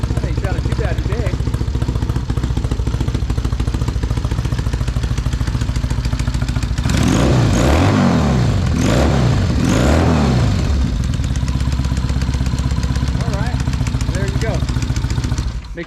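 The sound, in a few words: 1999 Harley-Davidson Sportster motorcycle engine running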